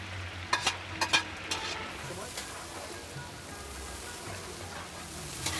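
Onions drop into hot oil in a pot that has just browned meat for Mazar-i-Sharif sultan pulao. A few sharp clatters of stirring come first, then a steady, close sizzle and crackle of frying.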